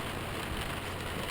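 Rain falls steadily during a boat trip, a continuous broadband patter and hiss with a low rumble underneath, even and unbroken with no talk.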